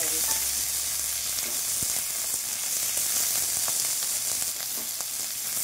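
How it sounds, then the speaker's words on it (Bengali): Onion and capsicum stir-frying in a pan for a restaurant-style 65 dish, a steady loud sizzle with scattered clicks and scrapes of stirring throughout, no voices. "পেঁয়াজ আর ক্যাপসিকামগুলো হালকা হালকা ভাজা হয়েছে"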